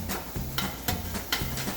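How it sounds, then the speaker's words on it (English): Bacon sizzling in a pan as it is pushed around, a soft steady crackle with a few scraping strokes, close and fairly quiet. "move your bacon around in the pan"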